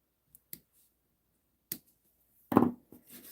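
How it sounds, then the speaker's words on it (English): A handful of sharp, close snips and clicks as scissors trim the base of a small berry-burst paper embellishment for a greeting card, spaced apart in an otherwise quiet room. "let me trim the base of this berry burst one"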